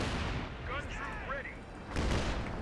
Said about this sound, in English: Mortar carriages just doing what they can to blast the infantry